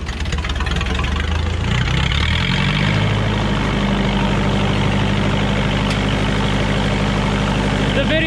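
An engine-driven welder cranks and catches, its motor rising and then settling into a loud, steady low idle close by, with a voice heard briefly at the start.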